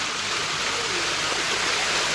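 Rainwater streams rush down the hillside at Pavagadh, Champaner, Gujarat, in a steady, broad gushing wash of flowing water, moderately loud and continuous, with no talking.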